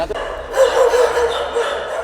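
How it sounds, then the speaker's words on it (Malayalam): Stray dogs kept in a rented house in Ernakulam bark and yip, a short cluster of nearby barks and whines over a muffled background. "പത്തനംതിട്ട സ്വദേശിനി വീണ ജനാർദ്ദനാണ് വീട്ടിൽ അറുപതിലേറെ തെരുവ് നായകളെ പാർപ്പിക്കാൻ തുടങ്ങിയത്"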